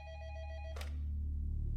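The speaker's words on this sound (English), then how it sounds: "Detective Greg Myers of the Monroe Police Department took a call at his desk." A desk telephone rings briefly as a sound effect in a crime podcast, a harmonic bell-like tone that gives way to a low rumble, moderately loud with no talk over it.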